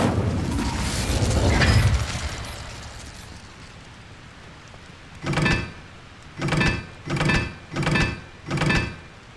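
A spell cast in the Hogwarts Legacy game opens with a rushing whoosh, then after a pause a series of five short, evenly spaced bursts of fire or impact, each punchy and distinct.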